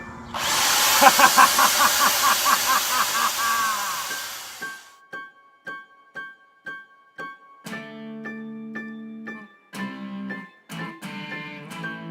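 A power drill whirs in one long sustained run, then fires in a series of short repeated bursts at close range, loud and with no talk.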